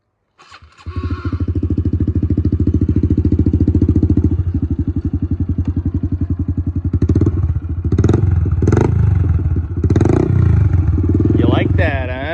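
A dirt bike fitted with a Pro Circuit T-6 exhaust starts up and runs at a rapid, popping idle, then is blipped through several sharp revs, loud and close.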